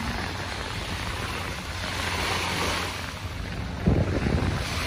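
Waves and strong wind at the Manila Bay beach, a steady roar of surf with buffeting wind noise on the microphone and a louder gust or wave crash near the end.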